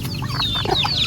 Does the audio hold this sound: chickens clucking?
yes